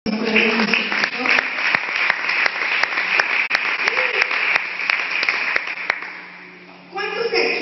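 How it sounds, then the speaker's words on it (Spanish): A church congregation applauds steadily in a dense, sustained wash of clapping for their pastor, with voices heard faintly underneath, before the clapping drops away near the end and speech resumes. "Le damos un aplauso al Señor por la vida de nuestro pastor."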